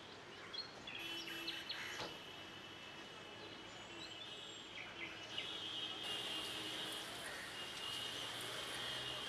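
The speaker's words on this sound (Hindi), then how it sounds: "परिंदे चहचहाते हैं, सुबह को खुश आमदीद कहते हैं।" Birds chirping at dawn: thin, high tweets and calls repeat over a steady outdoor background hiss, moderately faint and without any voice.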